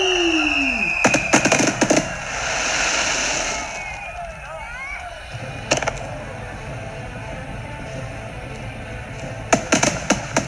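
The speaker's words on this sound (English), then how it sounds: "Come on! Where are the fireworks?" Fireworks pop and crackle in several rapid bursts, with whistling launches and sharp bangs clustered near the start and again at the end. Wind and surf-like noise fills the space in between.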